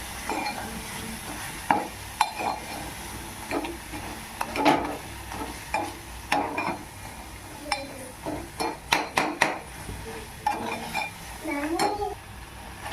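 Tomatoes cooking down in a pan for egg burji are stirred with a utensil, giving irregular scraping and clinking strokes over a soft, steady sizzle.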